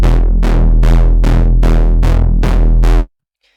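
Held on one note, the Wonky Reese bass synth pulses eight times in an even rhythm, each hit bright at onset and darkening over a thick sustained low end, loud and solo until a sudden stop.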